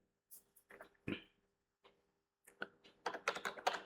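Typing on a computer keyboard while writing Python code: scattered single key taps at first, then a quicker run of clicky keystrokes, close and clear, with no talking.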